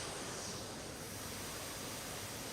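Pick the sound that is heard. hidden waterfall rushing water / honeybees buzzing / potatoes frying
hidden waterfall rushing water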